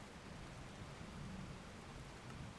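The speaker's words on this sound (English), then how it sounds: "Maybe it'll get rid of the rain too." Rain in the video game Minecraft, a steady, soft, dense hiss of falling rain with a faint low rumble underneath, continuous and without voices.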